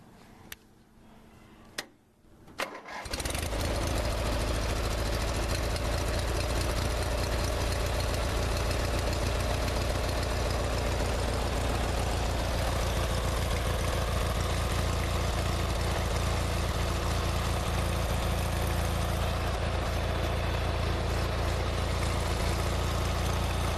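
An old restored tractor engine starts after a few seconds of quiet with faint clicks, then settles into a loud, steady close-up idle with a ticking, knocking rhythm that runs to the end.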